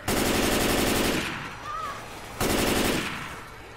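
Rapid automatic fire from an M4 rifle in a Star Wars shooter game, two loud sustained bursts separated by a brief pause with a faint tonal blip in between.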